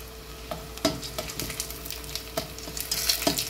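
Zucchini rings sizzle as they fry in oil, a steady crackling hiss with scattered sharper pops and small clatters of stirring, close and fairly loud with no talking.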